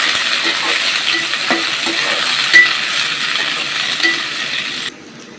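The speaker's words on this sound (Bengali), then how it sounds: "পেঁয়াজ কুচিগুলো কিছুক্ষণ ভেজে নিতে হবে, একটু লাল লাল হলে ভালো হয়।" Chopped onion and three bay leaves fry in oil for a home chicken curry, a loud even sizzle with a few light taps of a spoon, cutting off abruptly near the end.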